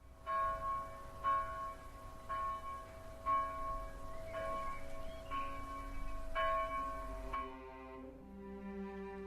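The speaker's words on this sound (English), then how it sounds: "As the bell rang its 12th toll" Church bell tolling at noon in The House in Fata Morgana game, with several loud, evenly spaced rich strikes ringing over a sustained musical drone, the last stroke leaving a long fading hum.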